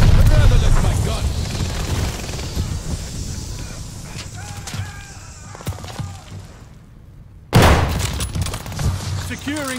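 Bursts of gunfire and explosive mortar impacts from the shooter game Call of Duty Vanguard, dense and loud for most of the stretch, with voices mixed in. The sound drops to near silence briefly before another loud burst.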